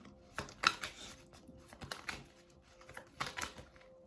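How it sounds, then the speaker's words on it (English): Tarot cards are shuffled and riffled in quick, soft bursts of flicking and slapping, fairly close and quiet, with no speech. "I'm just going to shuffle some cards and see what comes up,"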